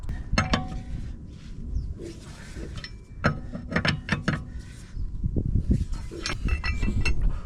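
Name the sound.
loosening wheel bolts on a Tesla Model 3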